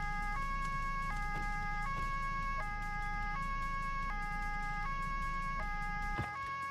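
Police car siren in the video game Autobahn Police Simulator 2, a loud, continuous two-tone wail alternating at a steady rhythm over a low rumbling engine bed.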